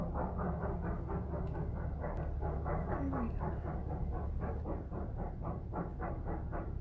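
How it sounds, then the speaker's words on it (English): Oil-burning train at Mount Davidson, Nevada, heard from inside a building as a steady, rhythmic clatter of wheels over rail joints, fairly loud and continuous with a faint tone briefly rising. "I love the sound of that train when I'm in the building."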